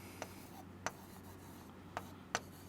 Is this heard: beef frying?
no